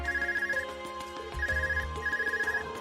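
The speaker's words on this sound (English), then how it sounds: "Is that your Arcus ringing?" The Arcus phone in the Trails of Cold Steel video game rings in repeated electronic trilling bursts over a pulsing musical background, with no voices.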